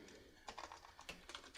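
Someone types on a computer keyboard, entering shortcuts for After Effects, with a run of quick, close, quiet key clicks in an uneven rhythm after a brief soft lull.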